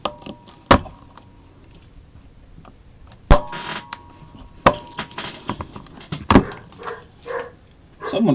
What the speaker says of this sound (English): Someone just knocked on the door.